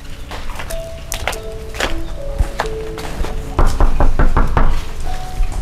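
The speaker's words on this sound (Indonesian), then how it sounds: "Yaudah, yuk langsung ketok aja deh." Knocking on the door of a large house: a series of firm knocks in irregular bursts, fairly loud and close, with a quiet tonal hum in the background and no talking.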